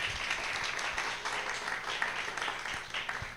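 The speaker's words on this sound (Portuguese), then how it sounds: "Vamos aplaudir aqui a equipe." An audience at a user-experience innovation session gives a presentation team steady, moderately distant applause that continues evenly throughout, with some room murmur mixed in.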